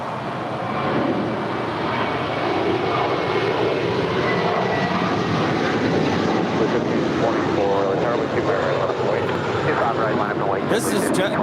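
United airliner taking off from runway 25 right at LAX, a loud sustained jet engine roar with broad rushing noise that holds steady throughout, a voice talking over it.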